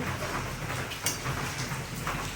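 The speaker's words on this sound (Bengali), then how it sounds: "বাইরে একভাবে বৃষ্টি পড়ে যাচ্ছে" Steady rain pours down outside the house, a continuous close wash of broadband patter with no voices.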